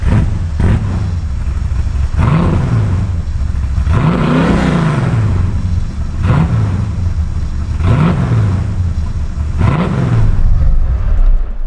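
A 1969 Chevrolet Camaro's engine and exhaust rev repeatedly, about five rising-and-falling blips in a steady rhythm over a continuous loud idle rumble, close to the car.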